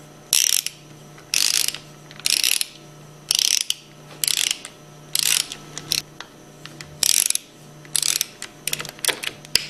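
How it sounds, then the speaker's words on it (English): A ratcheting 1/4-inch Allen wrench tightens the side cover bolts of a Powerline plunger pump to 100–110 inch-pounds. Close, loud bursts of rapid clicking come in about nine short runs, with brief pauses between them. "use your 1/4-inch Allen wrench and torque them between 100 and 110 inch-pounds"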